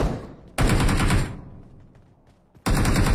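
Two loud bursts of rapid video game gunfire, one early and one at the end, separated by a quieter stretch of faint background noise.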